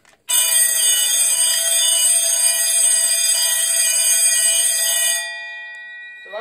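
A fire alarm sounds during a test after a call point is pushed: a loud, continuous electronic ringing tone holds steady for about five seconds, then cuts off and a quieter tone lingers briefly before stopping.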